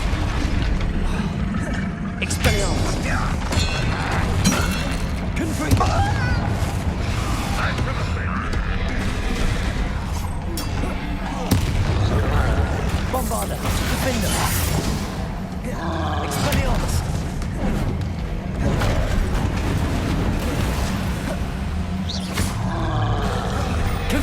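Spell blasts and explosions burst from Hogwarts Legacy combat, loud booming roars thick and continuous through the whole stretch, under a player's shouted spell names.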